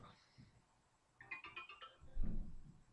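A mobile phone ringtone plays faintly in a quiet room, a short burst of bright melodic beeps lasting under a second, followed by a soft low thump.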